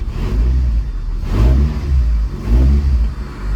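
A Renault Megane 2 with a 2-litre engine runs close by, revving up in two loud surges over a steady idle rumble, with no talking.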